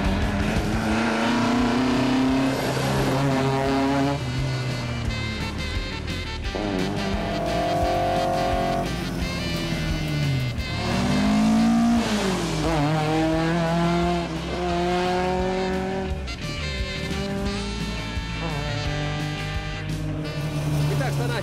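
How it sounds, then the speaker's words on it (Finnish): A Fiat 131 Mirafiori rally car engine roars loudly and continuously, rising and falling in pitch with gear changes as it drives, while voices talk over it throughout. "Moottorin äänet olivat kyllä korviaan repivät, mutta juuri se loi sitä aitoa tunnelmaa."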